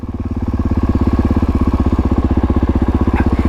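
A dirt bike engine idles close by, a loud, even, rapid thumping pulse that holds steady throughout without voices.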